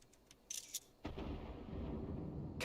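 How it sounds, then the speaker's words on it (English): Cannon fire in the video game Final Fantasy XIV: a couple of brief distant reports, then one sharp blast that swells into a loud, rolling rumble lasting to the end, with no voices. "Cannon fire! Where did it come from?"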